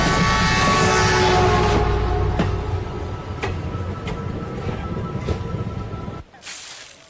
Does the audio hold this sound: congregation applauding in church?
no